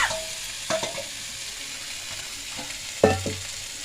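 Pangas fish curry sizzles in a pan as gravy is poured in: a soft, continuous frying hiss with a couple of stirring clinks and a sudden splash-like thump near the end.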